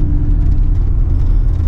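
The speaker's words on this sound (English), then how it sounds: "I do love driving this truck." A 1988 Chevy Silverado truck driving, its engine giving a loud, steady low rumble and road whir throughout, with no voices over it.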